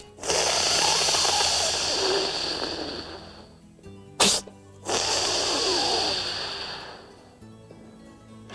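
A man imitates a whitetail buck's snort-wheeze challenge call: two long, breathy, forceful hissing bursts split by a sharp click, close and loud, with no speech.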